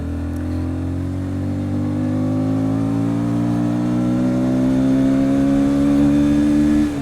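A KTM Duke 160 motorcycle engine and exhaust revs close and loud, its pitch climbing steadily over several seconds with no voices.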